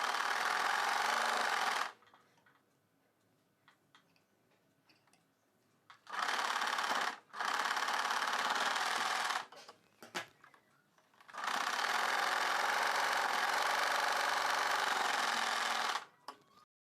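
A sewing machine stitches the folded edge of cotton blouse fabric in three loud, steady bursts of fast whirring, separated by quiet pauses with faint handling noises.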